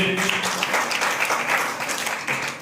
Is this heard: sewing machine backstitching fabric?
no